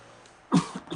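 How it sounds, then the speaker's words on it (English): A single short cough captured on an overnight sleep recording, fairly close and clear, followed by a couple of softer throaty bursts in an otherwise quiet room. "I think I coughed."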